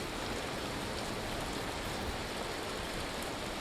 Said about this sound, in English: It's literally hail.